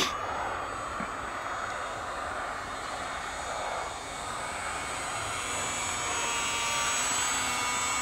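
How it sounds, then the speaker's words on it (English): A UMX Gee Bee R-2 model airplane flies overhead, its small electric motor producing a steady, moderately loud whine that holds constant for several seconds with no talking. "Interesting plane."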